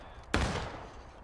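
Musket volley in the Civil War game War of Rights: one sharp, loud blast of gunfire with a ragged crackle of overlapping shots, then a decaying rumble and echo lasting about a second.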